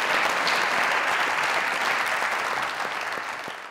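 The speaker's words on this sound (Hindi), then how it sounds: "एक दफा फिर सोनिया जी के लिए तालियां।" Studio audience applause at a Pakistani comedy talk show, dense steady clapping close and loud throughout, tapering slightly near the end, no talk over it.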